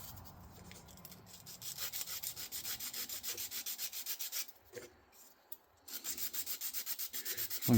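Hand sanding of wood with 100-grit sandpaper, close and loud, a steady series of rhythmic back-and-forth rasping strokes with a few brief pauses.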